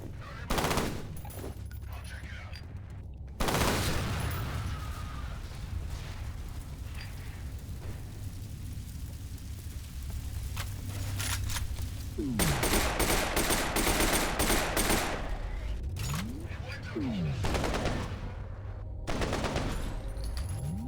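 Shotgun fire in the first-person shooter game F.E.A.R., with loud, booming blasts going off repeatedly among other game noise and combat effects, and no talk.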